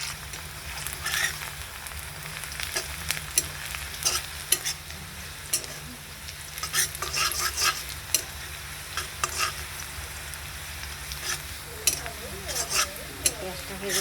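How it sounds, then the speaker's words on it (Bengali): Onions frying in a pan with kalonji (nigella seeds) after fish was fried, a steady close sizzle with repeated scraping and clinking of a spoon stirring against the pan throughout. "পেঁয়াজটা ভেজে নিচ্ছি"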